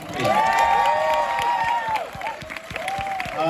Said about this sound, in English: Give Lee Majube a big round of applause.